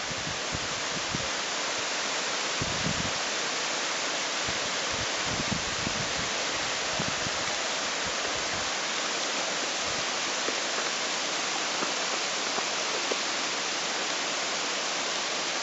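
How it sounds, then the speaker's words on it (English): A small waterfall on Goat Creek Trail pours steadily, a constant broadband rush of falling water that stays close and even throughout with no voices. "Just quite the nice little waterfall coming down through there."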